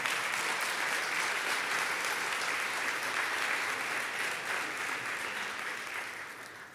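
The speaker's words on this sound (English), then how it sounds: "applause please for him" Sustained applause from a conference audience at a European harm reduction conference, a dense even clatter of many hands that holds steady and slowly tapers toward the end.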